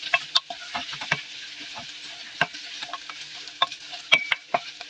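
Cheese, onion and mayonnaise sandwich filling being mixed in a bowl, a run of irregular wet squelches and spoon clicks against the dish, close and quiet, no talking.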